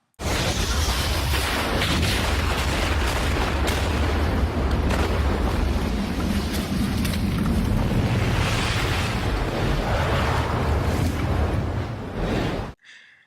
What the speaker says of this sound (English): we witness huge explosions, bombs dropping, fires starting, and overly obnoxious gun shootings